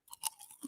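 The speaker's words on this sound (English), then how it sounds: "Bro, bacon's crunchy." Crunchy bacon being chewed gives a few quick, faint crunching bites, close to the mouth, over less than a second.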